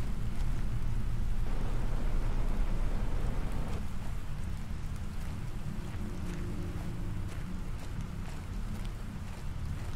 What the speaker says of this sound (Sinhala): වැස්ස.